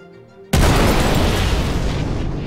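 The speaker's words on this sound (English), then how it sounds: "And one size three missile on the way." A size three missile slams into a 325A spaceship in a game, a sudden loud booming blast after a quiet moment that rolls on as a sustained roaring rumble.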